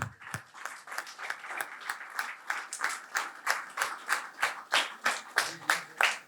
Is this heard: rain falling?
no